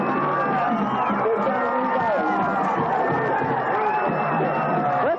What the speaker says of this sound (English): Listen to the Wayne Valley crowd.